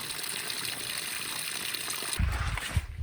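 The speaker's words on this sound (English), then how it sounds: "It's a little tiny baby waterfall." A tiny waterfall at June Lake, California, trickles with a steady, soft rush of water, and a few low thuds come in near the end.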